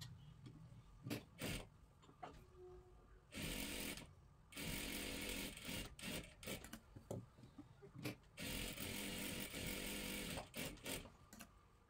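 A sewing machine stitches a dress and salwar seams in bursts, running in loud rattling spells of a second or two, broken by pauses and small clicks.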